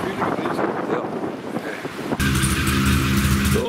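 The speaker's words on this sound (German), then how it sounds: "Die Motoren werden gestartet." Motorcycle engines fire up on a sunny curvy-road tour in Spain. After a couple of seconds of wind buffeting the microphone, a steady close idle rumble with a low hum suddenly starts and holds.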